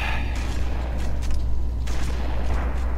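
Shotgun fire in a video game, several loud booming shots spread across a few seconds over a dense, rumbling game soundscape.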